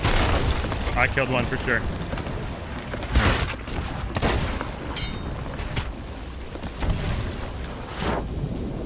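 Ship cannons fire in the video game Sea of Thieves as heavy, booming blasts spaced irregularly through a loud, roaring wash of sea and wind, while people talk excitedly over the battle.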